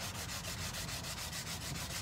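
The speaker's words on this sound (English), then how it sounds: "if you just hit it with a sanding block" A sanding block rubbing lightly over burned wood on a wooden flag project, a steady close scratchy scrubbing with quick repeated back-and-forth strokes filling the whole moment, no talking.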